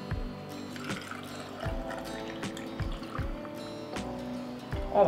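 Water poured into glass jars packed with apricots, a steady liquid fill with a rising pitch, close and moderately loud, with occasional knocks of glass.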